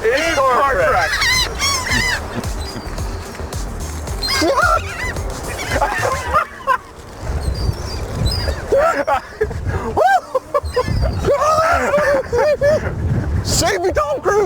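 Seagulls call repeatedly in loud, harsh overlapping cries with wind buffeting the microphone, and people talk in between the calls.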